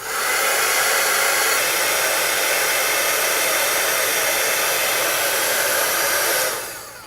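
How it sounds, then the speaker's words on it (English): A heat tool blows a steady, loud hot-air whoosh for about six seconds while melting embossing powder on scrapbook paper flowers, then winds down at the end. "So I'll turn on the heat tool now and heat these up."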